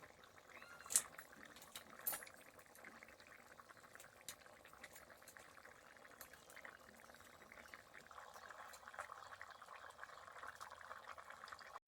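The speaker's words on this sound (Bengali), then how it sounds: "এবার বালতিতে জল নিয়ে নিয়েছি ধুয়ে নেবো" Mixed leafy greens are washed in a bucket of water, producing faint, soft splashing and sloshing with a couple of brighter splashes early on, quiet and close with no talking.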